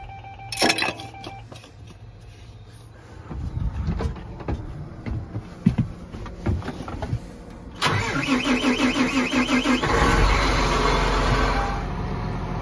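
A farm tractor that pulls a planter, parked in a field, cranks over and fires up. Rumbling bursts come first, then the engine catches and settles into a loud, steady idle close by.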